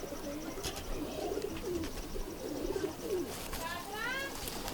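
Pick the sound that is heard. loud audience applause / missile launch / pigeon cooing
pigeon cooing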